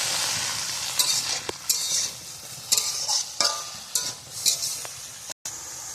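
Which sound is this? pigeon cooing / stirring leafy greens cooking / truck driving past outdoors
stirring leafy greens cooking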